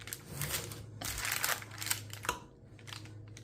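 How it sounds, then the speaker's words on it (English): Parchment paper crinkles and crackles in loud, uneven bursts while no-bake peanut butter buckeye bars are handled in a home kitchen, with a steady low hum underneath. "I know that's noisy because of that paper"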